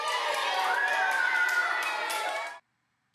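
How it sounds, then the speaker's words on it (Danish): A crowd cheering as a sound effect in a Danish children's audiobook story: a loud burst of claps, shouts and cheering voices for about two and a half seconds, then an abrupt cut to silence. "Alle jublede."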